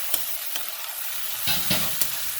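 Chicken strips frying with a tablespoon of garlic in a pan: a constant gentle sizzle punctuated by several distinct scrapes and knocks of a stirring spoon, no voices.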